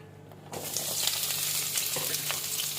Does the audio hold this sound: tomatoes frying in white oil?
yes